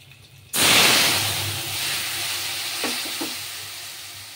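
A paste of ground mustard, turmeric, chilli powder and salt hits hot oil for a fish curry with a sudden loud sizzle, then settles into a steady frying hiss, with a few faint taps near the end.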